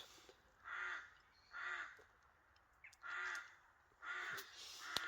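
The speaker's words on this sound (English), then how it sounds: "That's one thing about this set of woods. The crows are absolutely, they're quite quiet now." Crows caw in Scottish winter woods, four separate harsh calls spaced about a second apart at moderate distance over a quiet background.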